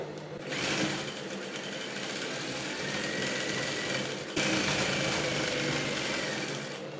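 An electric sewing machine runs in a long continuous whir while stitching around the edge of an off-shoulder cape, pausing briefly midway before resuming at full speed, close and alone.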